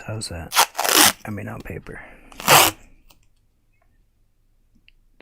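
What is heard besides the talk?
tape being pulled off watercolor paper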